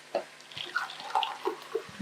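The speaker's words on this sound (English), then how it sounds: "So we are going to add 4 cups of water." Water from a measuring cup is poured into a pot of already boiling water on the stove as rice is cooked, making short splashing and bubbling bursts close by with no talking.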